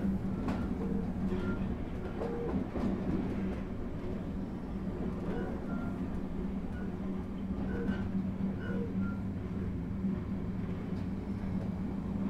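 A Southeastern passenger train runs between Sevenoaks and London Charing Cross, heard from inside as a steady low rumble with faint rhythmic rail clicks and rattles throughout, no voices.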